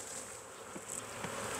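Honey bees hum in a dense, continuous buzz at an open hive full of brood during a spring inspection, steady and fairly faint, with no voices.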